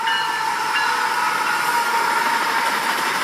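A CSX Heritage Unit locomotive passes at sunset in Michigan, heard as a steady loud hiss and rumble with a faint high tone above it, continuous throughout, with no talking.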